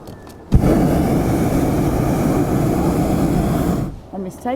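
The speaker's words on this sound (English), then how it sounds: "Trying to be organised for the takeoff and I missed the takeoff" A light aircraft taking off, its engine roaring in steadily and loudly at close range for several seconds before cutting away, with a voice briefly at the end.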